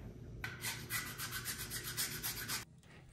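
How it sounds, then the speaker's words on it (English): Steady rhythmic sanding strokes of drywall sandpaper on a plaster mold, a dry abrasive scratching back and forth for a couple of seconds, close and fairly quiet. "This drywall sanding paper is magic for sanding plaster."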